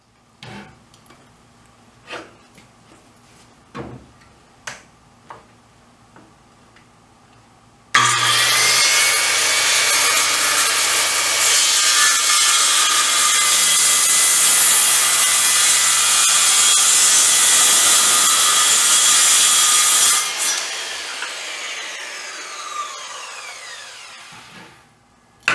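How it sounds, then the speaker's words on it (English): A circular saw (skill saw) rips a 36-inch cut through 5/8 wood along a homemade jig, loud and steady for about twelve seconds before spinning down, with scattered knocks and clatter of setup beforehand. "the 36 inch cut's gonna have to be with the homemade jig here and the skill saw"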